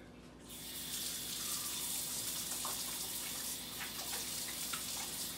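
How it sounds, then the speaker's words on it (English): A kitchen tap starts up and then runs steadily as hands are washed before cooking a cauliflower casserole. The water is close and fairly loud, with faint splashes from the hands and no speech. "I'm going to wash my hands."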